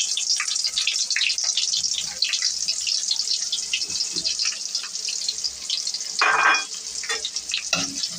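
Onions and dried chillies fry in oil, a bright continuous sizzle with stirring scrapes, close and fairly loud, briefly swelling into a louder splash partway through.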